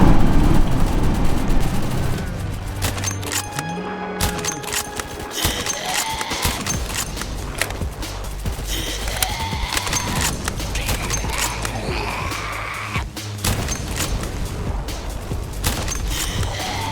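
Rapid submachine gun fire crackles in Roblox Zombie Uprising, dense clusters of sharp shots mixed with booms, whooshing game effects and zombie noises, continuous and loud.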